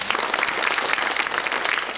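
Studio audience applauding, a dense, even patter of many hands clapping close and loud throughout, with no voices over it.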